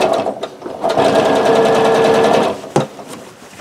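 Sewing machine stitching quilt pieces for a disappearing nine-patch quilt, with a fast, steady whirring run of about two seconds between short clicks, close and loud.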